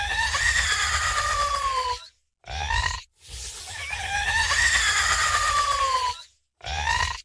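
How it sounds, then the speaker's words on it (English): A harsh, distorted creature scream in long, rising and falling bursts, with brief silences between cries, loud and close. "really makes it feel like the creature is like screaming at you"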